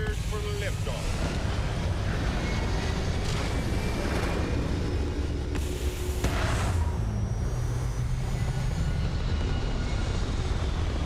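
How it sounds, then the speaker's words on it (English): A spaceship lifts off in Starfield, a steady broadband roar of engine and rushing air that holds constant and loud throughout, with a brief swell of hiss midway. "We're cleared for liftoff."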